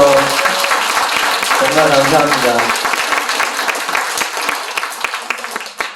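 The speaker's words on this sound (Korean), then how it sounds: "가장 큰 박수 받으셨으면 좋겠어요." An audience at a live public broadcast event claps loudly and continuously, the applause tapering slightly toward the end as a speaker's voice rises briefly over it.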